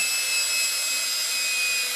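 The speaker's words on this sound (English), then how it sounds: "And I've got my drill and I go." A cordless battery drill spins steadily to twist thread into custom cording for a cross stitch ornament, giving a continuous even whir with a high whine and no pauses.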